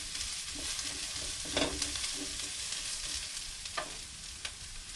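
Beef sizzles in its own rendered fat with a continuous frying hiss, while a few spatula stirs and scrapes stand out briefly against the steady crackle.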